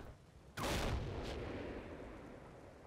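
A single sharp explosion booms out in a Normandy WWII wargame, followed by a second fainter crack and a long decaying rumble against quiet background.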